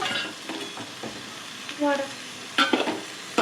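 Drumstick curry being stirred in a pan over a low flame, with soft scraping strokes and a faint sizzle, broken by a few louder clinks and scrapes of the spoon against the pan.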